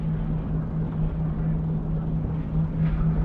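Twin diesel engines of a Class 112 railcar idle in a train simulator game, giving a steady low drone with a constant hum that runs unbroken throughout.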